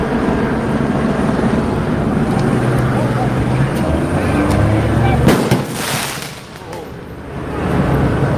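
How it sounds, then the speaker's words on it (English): Fireworks go off amid a night street protest over ICE, with sharp cracks and booms rising out of a dense, steady wash of crowd and street noise, a couple of the blasts standing out loud and near. "Where are the fireworks coming from?"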